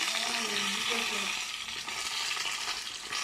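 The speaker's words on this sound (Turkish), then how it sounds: "Evet şöyle balıklarımızı da kızartalım." Steady crackling sizzle of fish frying in oil in a pan, close by and continuous, with faint spattering and no talking.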